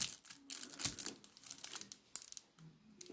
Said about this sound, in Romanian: Am reușit în final să desfac pachetul lui pus într-o altă folie.